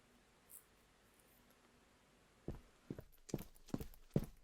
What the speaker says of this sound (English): The only sound I can hear is my footsteps along the floor as I walk.